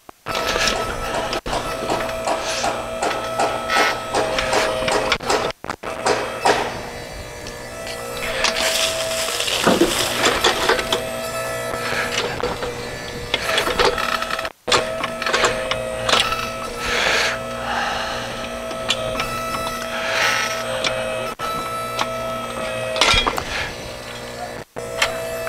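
Electric motor driving a 360 degree backhoe whirs steadily nearby, layered with small clicks, ticks and metallic clinks and occasional rising hydraulic surges, continuous throughout with brief dropouts.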